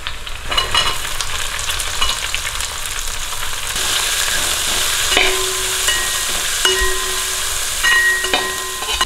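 Onions and garlic frying in a pan for chicken curry, a steady broadband sizzle with scraping stirs throughout, fairly loud and close, with no voices.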